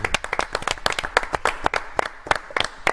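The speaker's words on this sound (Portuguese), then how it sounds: "Palmas para as mulheres que nos assistem." Sharp, close hand claps sound in an uneven burst on a sports radio show, a few people clapping quickly and loudly with no talking.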